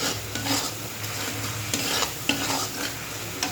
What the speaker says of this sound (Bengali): এই যে মশলাটা কষানো হচ্ছে